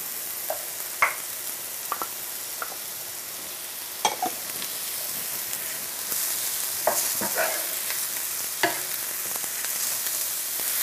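Chopped mushrooms drop into a pan of browning leeks and sizzle steadily, with a few sharp clatters and stirring knocks as they land and are moved about.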